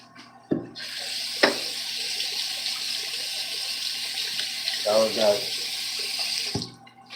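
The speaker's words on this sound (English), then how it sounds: "you heard some splashes. That was that water" Water runs steadily like a tap filling a sink, with a few sharp knocks and a brief burst of splashing partway through, fairly close and continuous, with no speech.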